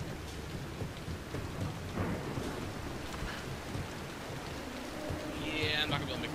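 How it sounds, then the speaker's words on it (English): Heavy rain pours through a thunderstorm in the 2013 Tomb Raider game, with deep rolling thunder rumbles under a dense hiss of rain that never lets up. "Storm really is getting nuts."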